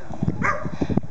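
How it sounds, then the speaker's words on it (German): A dog gives short, yappy barks and whimpers in a brief burst, close by, with some background noise. "Beim zweiten Mal, wenn er verstärkt wird, fängt der Hund früher an zu bellen als beim ersten Mal."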